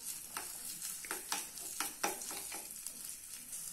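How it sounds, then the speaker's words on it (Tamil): Grated coconut fries in ghee in a pan with a steady soft sizzle, punctuated by a few irregular stirring scrapes, close and fairly quiet. "நல்லா வந்து நெய்யில் வந்து வறுத்தாச்சு"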